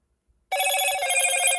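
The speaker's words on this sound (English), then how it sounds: "There's your notification." A phone notification tone cuts in after a brief silence: a bright, sustained electronic ringing chime, loud and close, continuing to the end.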